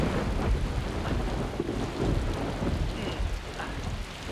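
Thunder rumbles with steady rain falling on surfaces outdoors at night, a continuous loud storm wash with low rolling booms throughout.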